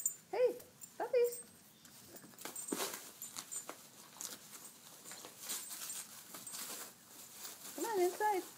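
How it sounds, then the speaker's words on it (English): Springer Spaniel puppies whimper and yip in short high cries, with light pattering of paws between them and a few faint voices nearby. "Hey, puppies."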